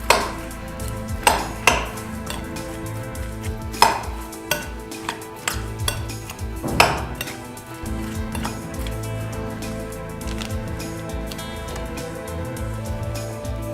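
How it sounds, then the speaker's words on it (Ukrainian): Utensils toss salad in a bowl before balsamic vinegar is added, with soft irregular clicks and scrapes over a steady rustling background, fading to gentler stirring. "Це все добре вимішуємо."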